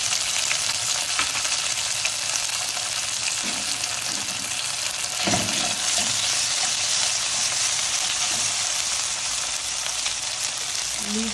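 Ginger paste frying in a pan on a medium flame for a Bengali watermelon rind curry, a steady close sizzle running throughout with a few brief clinks and stirring knocks.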